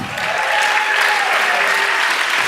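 Steady, dense applause from a lecture audience for ethnopharmacologist Dennis McKenna, a loud even wash of many hands clapping throughout with no break.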